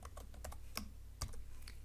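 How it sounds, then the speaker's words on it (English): Quick, light taps on a computer keyboard while saving a JavaScript file, a handful of crisp close keystrokes in an irregular rhythm over quiet background hum. "I'm typing Control S"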